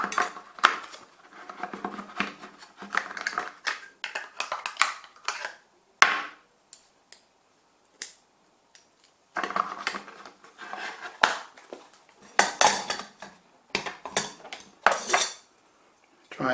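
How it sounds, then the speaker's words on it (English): Metal MSR Pocket Rocket 2 camping stove and gas canister being packed into a box: irregular bursts of clinking, rattling and clattering metal, close and fairly loud, with short pauses between handling sounds and no speech. "So the stove doesn't fit in the box with the gas canister inside."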